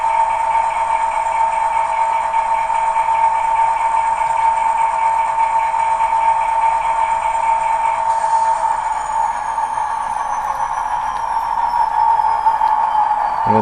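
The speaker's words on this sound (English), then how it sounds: "Its startup sequence takes a little bit of time." SD70MAC model locomotive sound decoder running its startup sequence, a steady mechanical diesel drone with a slowly sliding high whine that shifts partway through, continuous and loud with no talking.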